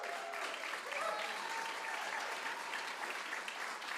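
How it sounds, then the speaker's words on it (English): Audience applause fills the room of the WoodSongs live music livestream show after bluegrass band Southern Legacy's set: a steady, dense wash of clapping from a sizable crowd, sustained evenly throughout with no speech on top. "Let's give Dorothy a big round of applause, and thank you, everyone."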